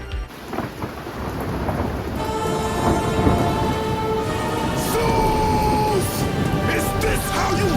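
Steady heavy rain pours down with rumbling thunder through a stormy stretch, constant and fairly loud, while a voice talks briefly over it.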